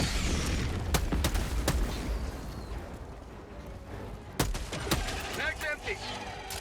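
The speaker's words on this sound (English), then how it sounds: "Orbital strike incoming." Orbital strike explosions and gunfire in Helldivers 2: a dense run of blasts and sharp shots, with bursts clustered early and again near the end over a constant rumbling battle bed, loud and close.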